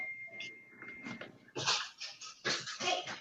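A pet dog barks and yips indoors in a few short, fairly near bursts, the later barks louder and grouped in quick clusters, with a person nearby.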